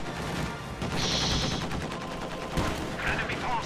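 Dense gunfire in a World War II strategy game: rattling machine gun bursts and heavier anti-tank gun shots overlap continuously at battle distance, loud and sustained with layered combat effects.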